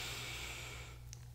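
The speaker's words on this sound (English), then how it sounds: "Take an inhale." During a yoga flow, someone lying on their back for final relaxation takes one deep breath through the nose, a brief, soft, close breathy sound that tapers off.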